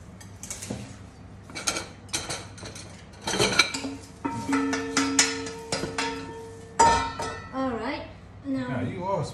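A metal colander set down into a bowl during camp cooking, giving a run of clattering, ringing metallic knocks and scrapes, fairly close, with brief gaps between bursts.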